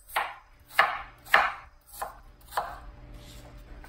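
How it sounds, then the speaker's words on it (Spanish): Fruit being diced into small cubes on a board, five or six crisp knife chops at an uneven pace, close and clear with no talking. "Vamos a empezar a picar nuestra fruta. Vamos a picarla en cuadritos,"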